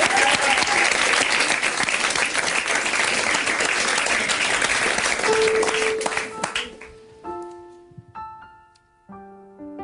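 A television studio audience on the TNT Show breaks into loud, sustained applause, which dies away after about seven seconds as live musicians start playing clear sustained notes.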